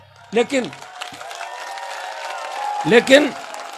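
Audience applause at a Rashtriya Loktantrik Party public rally in Chohtan, Barmer, a steady, moderate patter of clapping from the crowd running beneath a man's amplified speech, which pauses in the middle and resumes near the end.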